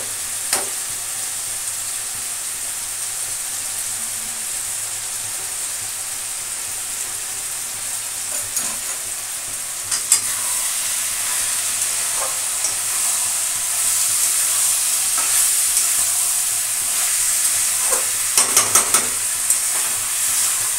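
Spice paste frying in a hot pan, a loud continuous sizzle with bursts of crackling and spitting that intensify in the second half, close up with no voices.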